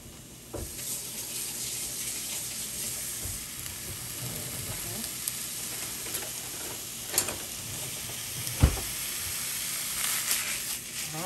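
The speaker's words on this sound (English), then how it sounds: "we're gonna go ahead and get our mild Italian sausage. I'm gonna cook that over here on the stove." Mild Italian sausage sizzling in a pan on a stovetop, a steady close frying hiss with occasional louder pops and clatter of stirring, no talk.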